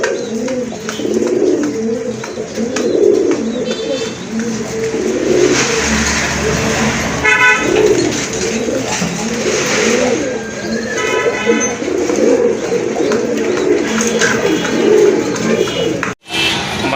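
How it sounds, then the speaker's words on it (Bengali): A male pigeon coos in repeated soft low calls at a pigeon sale, with other birds and a passing car or engine in the background. "ডাকতেছে এটা তো নর, বুঝতেই পাচ্ছেন।"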